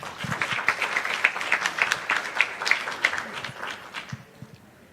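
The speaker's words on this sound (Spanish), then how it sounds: "Un aplauso para ella, por favor" An audience at an academic panel on Karol Wojtyla applauds a speaker being introduced, with a lively round of many hands clapping that swells and then tapers off at the end.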